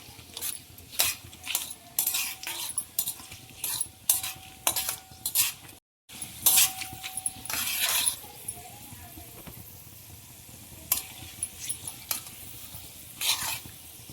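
Cashews stir-fried with roasted spices in a pan for veg biryani: repeated close metal clinks of a spoon against the pan over a low sizzle, in uneven bursts with a brief gap midway, no speech.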